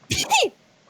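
A single sharp sneeze, loud and close, followed by a brief pause during a tabletop Dungeons & Dragons game session.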